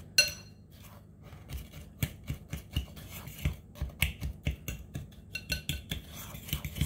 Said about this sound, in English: I'm going to stir this up. Let me use this fork.